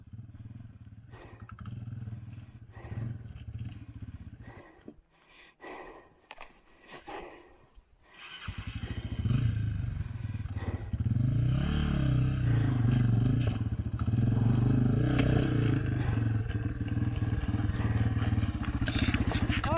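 A Yamaha TTR dirt bike crosses a rock field: a distant engine at first, then a loud, close, steady engine roar with clattering over rocks, with occasional voices nearby.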